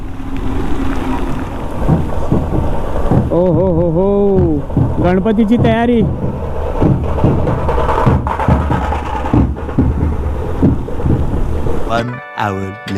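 During a motorbike ride, steady rain pours down with a low rumble of thunder, while voices chant and talk over it; a loud crackle near the end.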